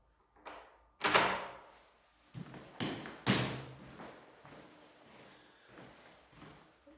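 An outward opening door at the level-access entrance of an old fort building, a couple of solid thumps and clunks as it is handled, followed by fainter knocks and rattles.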